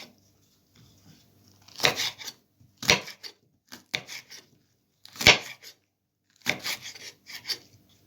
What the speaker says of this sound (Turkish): Hemen biberimi doğruyorum.